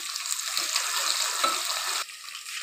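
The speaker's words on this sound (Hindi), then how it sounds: "पानी डाल दिया" Water poured into a pan of frying onion, garlic and green chilies for a methi aloo dish, a loud close hiss and splashing sizzle that cuts off abruptly, leaving a softer simmering sizzle.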